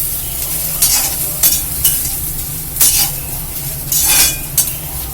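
Onion and coconut paste sautéing in a pan for bitter gourd and field bean kulambu: a soft sizzle under repeated scraping strokes of a spoon against the pan, close and fairly loud, with no talk.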